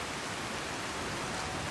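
Steady, dense rain hiss in the Skyrim video game on the approach to Whiterun, a continuous broadband wash with no breaks, no individual drops standing out, and no voices.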